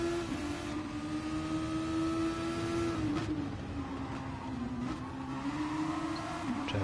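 Race cars lapping Red Bull Ring in a racing video game, a steady engine drone holding one pitch with brief gear-shift dips, loud and continuous with no talk.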